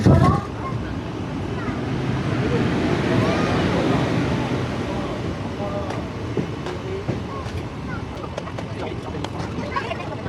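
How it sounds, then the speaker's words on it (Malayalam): A train that set out from Tirunelveli Junction, bound toward Tiruchendur, rolls along with a steady, loud rumbling roar and occasional clicks from the wheels, while voices murmur faintly underneath. "തിരുനെൽവേലിയിൽ നിന്ന് സ്റ്റാർട്ട് ചെയ്ത ട്രെയിൻ"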